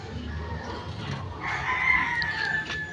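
A rooster crows once at moderate distance, a long strained call over a faint background murmur.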